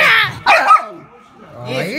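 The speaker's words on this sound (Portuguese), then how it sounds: "Olha que latido." A dog barks a few times in short bursts, close by, mixed with people talking.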